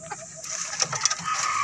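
Labuyo wild junglefowl rooster from Agoncillo, Batangas, newly caught and held in a cage, giving short clucking calls among outdoor background noise, with no talking.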